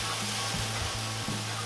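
Dry-aged burger patties sizzle on a Weber Jumbo Joe charcoal grill, a steady close hiss with faint tonal hum and a couple of brief scraping bumps, no talk.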